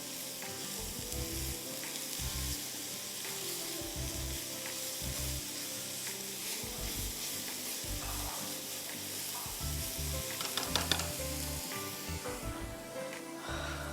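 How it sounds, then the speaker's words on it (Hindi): Grated carrots sizzle and fry in hot ghee for gajar ka halwa, a steady dense crackle with soft periodic stirring scrapes throughout, close and fairly quiet with no talking. "घी में इसको अच्छी तरह फ्राई करें, सौटे करें"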